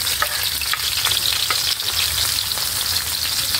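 Onions sizzling as they fry in a hot pan for pinakbet, a dense, steady crackle and hiss up close, with no talking over it.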